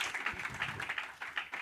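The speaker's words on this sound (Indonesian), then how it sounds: "beri tepuk tangan buat jawaban dari narasumber kita" Audience applause at an Indonesian seminar session, a short spell of steady scattered clapping from a room of listeners, fairly faint and even throughout.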